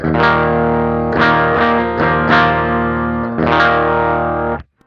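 A low, heavy electric guitar in low tuning plays sustained clean chords through an amp, several strums ringing out before stopping abruptly near the end.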